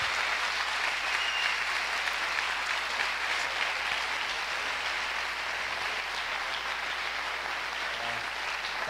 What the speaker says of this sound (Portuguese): Dá um aplauso para Jesus.